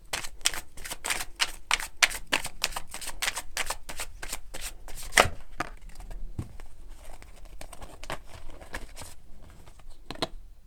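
A deck of cards shuffled for an evening card reading, producing rapid close riffling bursts with a few pauses and lighter flicks toward the end.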